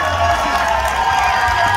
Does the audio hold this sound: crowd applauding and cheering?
yes